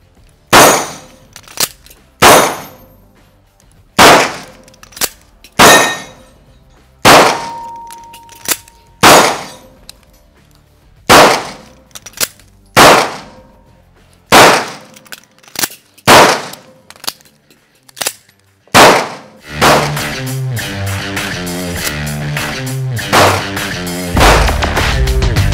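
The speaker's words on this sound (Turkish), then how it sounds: "Bir de acil durumda nasıl şarjör değiştirilmeli onu göstereceğim." A handgun fires in a run of loud, sharp shots with short gaps between them. Then comes a dense stretch of rapid metallic clatter that fits the pistol's emergency magazine change, all without talk.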